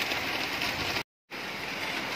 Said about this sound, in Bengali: তো বৃষ্টির আওয়াজ আর বৃষ্টিটা তোমরা শুনতে পাচ্ছ কিন্তু দেখতে পাচ্ছ না